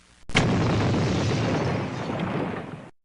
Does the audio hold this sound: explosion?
yes